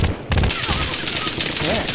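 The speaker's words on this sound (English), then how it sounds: "This new Bertolo rifle is fucking beast." Rapid Bertolo rifle shots crack in a first-person shooter, a quick burst of loud, close reports at the start followed by ongoing battle noise and a voice in the background.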